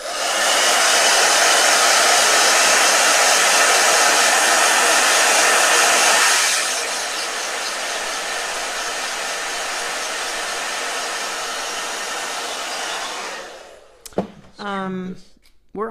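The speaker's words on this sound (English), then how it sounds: "Blow dryer, everybody." A hair dryer runs loud and close with a steady blowing roar, drops to a lower setting partway through, then cuts off before a short burst of speech.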